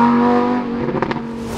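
Loud Lamborghini engine note, a steady deep droning hum that rises and roughens into a brief burst of revving near the end, close and dominant.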